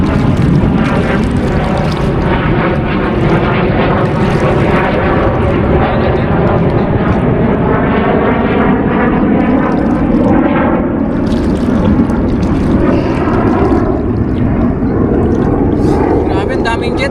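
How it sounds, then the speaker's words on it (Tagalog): Jet fighter aircraft fly overhead with a loud, continuous, rumbling roar that fills the whole stretch without a break, close and overwhelming. "Daming jet fighter."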